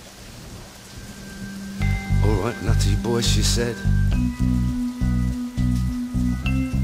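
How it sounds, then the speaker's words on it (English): Rain and thunder sound effect within a song, a steady wash of falling rain under a sung vocal with a rhythmic band entering partway through. "the rain began to fall"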